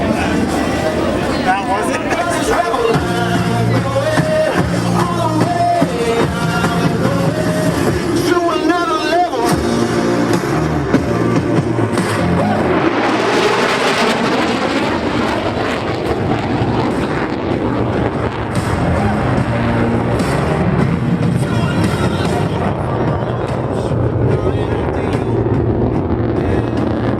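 At an airshow, a jet aircraft roars past on a high-speed pass, a loud sustained rumble rising and falling with wind buffeting, while an announcer talks over it throughout.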